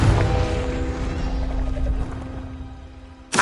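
A Confringo blasting curse goes off in Hogwarts Legacy as a loud, broad burst that fades over a few seconds under a steady hum, followed by a sharp second blast at the very end.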